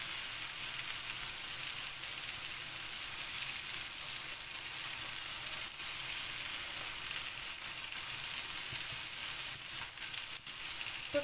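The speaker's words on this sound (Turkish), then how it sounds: "Böyle hafif sadece kızartacağım ki birbirini tutsun da dağılmasın" Köfte meatballs fry in a pan with a steady, even sizzle of hot oil that crackles continuously at a close, moderate level, with no talking.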